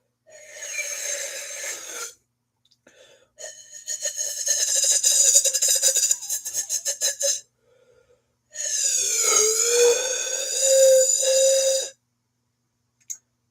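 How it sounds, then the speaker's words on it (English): Air is blown through a straw in several long raspy, buzzing bursts with breaks between them, close to the mic and with no talking. "That's the sound of me blowing into a straw."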